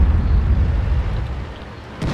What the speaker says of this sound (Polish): Strzał w wieżę z hita.